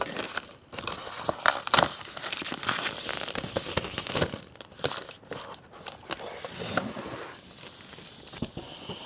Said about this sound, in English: I'm removing the plastic.